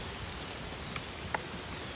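Rain falling in a forest during a bird hunting trip: a faint, steady hiss of drops with a couple of tiny clicks, no voices.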